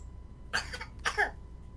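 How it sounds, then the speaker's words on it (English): Two short coughs, close by in a quiet room, separated by a brief pause. "that's my little cough"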